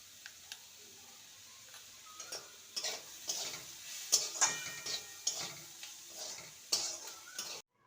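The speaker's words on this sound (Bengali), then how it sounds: "আরও দু মিনিটের মতো নেড়ে নেব" Poha pulao with chopped onion and green chilli being stirred in a pan, a soft background sizzle under a run of sharp metallic taps and scrapes from the spatula, close and fairly quiet, no voices.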